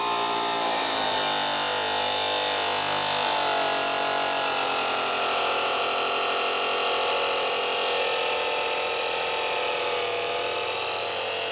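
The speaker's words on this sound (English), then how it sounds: "So just to operate the saw, it's a case of dropping the blade down into that slot and then push the tile with the tray." A tile saw cuts through a floor tile with a steady, loud, high-pitched whine, continuous and unbroken, with no one talking.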